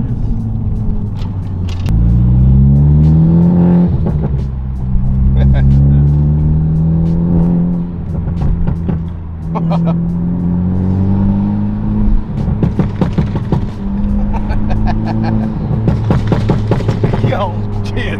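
A Honda Civic Type R revs hard at a street car meet, its engine note swelling and dropping in repeated loud pulls, while people nearby talk and react over the rumble.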